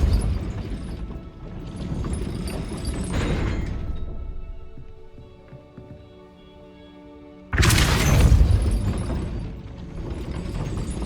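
A Depulso force-push spell in Hogwarts Legacy fires as a sudden loud broadband blast that follows a quieter tonal stretch and then decays into ambient game sound.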